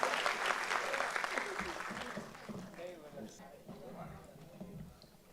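An audience at a Jain doctors' foundation event applauds for an honoured guest, the clapping fairly quiet and fading gradually, with some voices mixed in.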